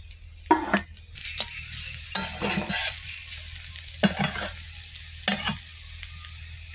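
Rupchanda fish cooking with eggplant and potato in a pan: a soft sizzle beneath several distinct bursts of stirring and scraping, close by.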